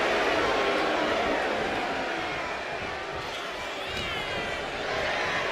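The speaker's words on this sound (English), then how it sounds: "Trish getting the crowd behind her now." Arena crowd in the WWE 2K25 wrestling video game, an Iron Man match, swelling as a steady, loud cheering roar that fades slightly midway and then builds again.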